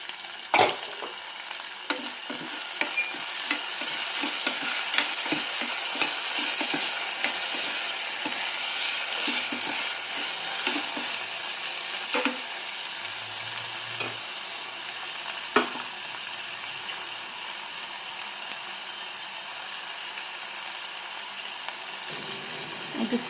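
Green peas and tomato frying in a pan, a continuous close sizzle with frequent light spatula clicks and scrapes, plus a few sharper knocks against the pan.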